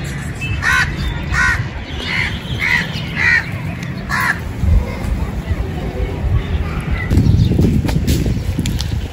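Outdoors in the rainy season, a bird gives a run of repeated harsh calls in quick succession, then falls quiet, over a steady noisy background with a murmur of voices.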